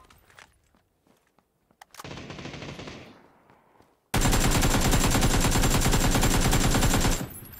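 Automatic gunfire in PUBG, close and loud: a shorter burst with a tail, then about three seconds of sustained rapid fire after footsteps and quiet movement.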